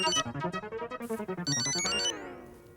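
A telephone ringtone plays a melodic electronic tune close by in a home setting, pulsing in quick repeated notes before ending in a sliding tone.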